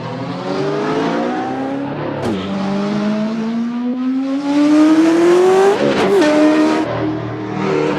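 A turbocharged car engine revs hard and alone, its pitch climbing steadily in a long loud pull, dropping at a gear change, then rising again with a sharp whoosh near the end.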